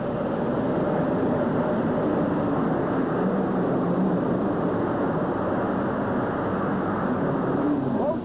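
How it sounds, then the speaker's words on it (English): Turbine-powered pulling truck with twin Lycoming T55 turbines making a pull at an arena event, a continuous loud, even turbine roar filling the whole stretch without breaks or talk. "those twin Lycoming T55 turbines leave the Dragon Lady and Dusty Arfon just a little bit short of the full pull mark"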